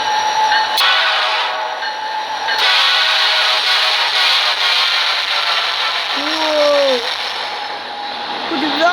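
A Union Pacific freight train roars steadily past at close range, a dense rumbling wash of wheels and engine noise with a brief horn-like tone rising near the end.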